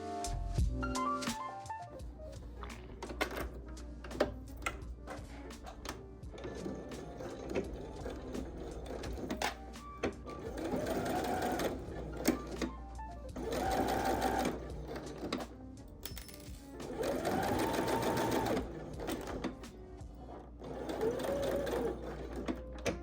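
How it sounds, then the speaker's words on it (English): Sewing machine running a straight stitch to close a pinned hole in a V-neck top: several separate spells of quiet, rapid needle clatter and motor whir, stopping and starting between short pauses, heard close with no speech. "Pin the hole closed and then take it to the machine using a straight stitch."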